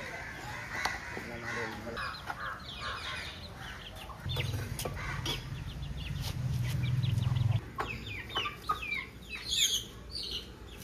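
Chickens cluck and chatter repeatedly in a rural kitchen setting, a mix of short clucks and calls at moderate distance over a low background hum, with occasional voices.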